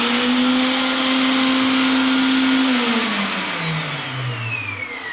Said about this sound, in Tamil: இதை நல்லா மிக்சியில் நல்லா 2-3 பொடி பண்ணிக்கோங்க